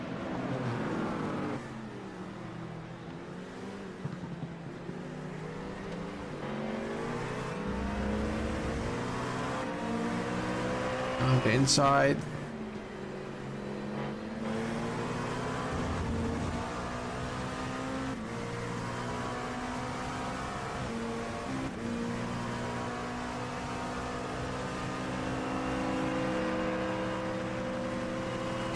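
A Ford Mustang race car and other racing traffic at Zandvoort, heard from inside a loud LMP2 cockpit: a steady engine drone with shifting revs and a sharp rising whine midway, and a brief voice near the start.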